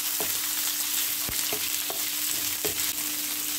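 Onion cut into petal-like pieces sautés in a pan, making a close, steady frying hiss broken by a few sharp clicks and scrapes as it is stirred.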